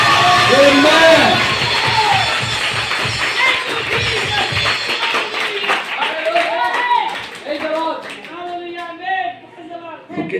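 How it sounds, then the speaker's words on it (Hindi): Congregation at a church service clapping loudly together, a dense burst of hand claps that tapers off as a preacher's voice and singing-like speech carry on over it. "तो जोरदार ताली बजाकर हालेलुया"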